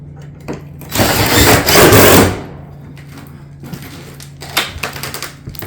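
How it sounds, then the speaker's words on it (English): A fastener driven into a ridge piece on a barrel vault tile roof, one loud rattling burst of a bit more than a second, followed by lighter tapping and handling noises. "We'll want to go ahead and put a fastener in the left side."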